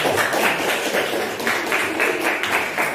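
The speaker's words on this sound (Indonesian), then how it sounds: "tepuk tangan dong" Applause from a class of students fills the room, a dense run of hand claps holding steady at moderate loudness throughout, with faint room noise underneath.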